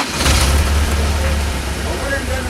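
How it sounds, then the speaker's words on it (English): A car engine idles with a steady, loud low rumble that holds evenly throughout, with no distinct start heard. "That was the sound of a vehicle made possible by a battery that activates"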